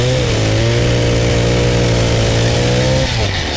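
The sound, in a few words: motor starting and running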